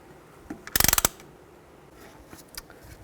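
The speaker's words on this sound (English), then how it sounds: "Use a brake caliper compressing tool. And slowly compress the pistons." Brake caliper compressing tool pressing the pistons back on a 2010-2014 Cadillac SRX front brake, a quick burst of rapid metallic ratcheting clicks, close and fairly loud, then faint scattered clicks of the tool.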